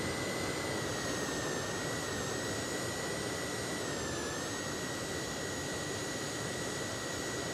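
The jet engine of a Cessna Citation C525 CJ1 in X-Plane 12 roars as a steady broadband rush with a high whining tone that dips slightly midway, loud and continuous with no talk.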